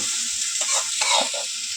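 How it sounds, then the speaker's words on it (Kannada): Carrots roast in a pan with a steady close sizzle, broken by a few scraping stirs of a spatula, continuous and loud with no voices. "ಕ್ಯಾರೆಟ್ ಹಾಕಿ ರೋಸ್ಟ್ ಮಾಡ್ತಾ ಇದ್ದಾರಾ"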